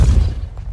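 A Depulso spell blast fires in Hogwarts Legacy, a short, dense low boom that fades over less than a second, heard alone without talk.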